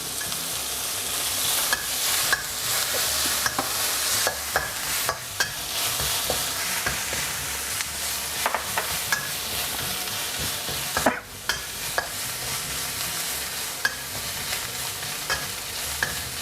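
Pounded garlic and dried chillies stir-fry in a little oil over medium heat in a pan, a continuous close sizzle broken by repeated scraping strokes and spatula clicks, no talking.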